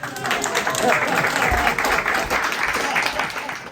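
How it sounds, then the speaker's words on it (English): Audience applause for a spoken-word stage performance, a full dense clatter of many hands, steady and fairly loud, with some voices mixed faintly into the crowd. "Now you applaud"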